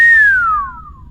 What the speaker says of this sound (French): Viens, je siffle.